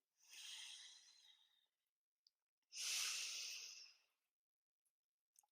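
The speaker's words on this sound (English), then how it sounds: "And one last breathing cycle." Two slow, deep breaths during a yoga breathing cycle, each a long airy rush of several seconds, separated by a quiet pause, close and soft with faint small sounds between, no talking.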